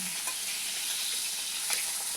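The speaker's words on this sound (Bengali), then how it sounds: "এই যে মাছ কতগুলো ভাজা হয়ে গেছে ওই যে আরো ভাজা হচ্ছে মাছগুলো এত ফাটছে মাছ" Koi fish fry in hot oil in a pan, with a steady, loud sizzle and scattered sharp crackles and pops running throughout, with no voices.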